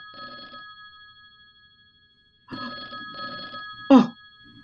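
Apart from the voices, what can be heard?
telephone ringing, radio drama sound effect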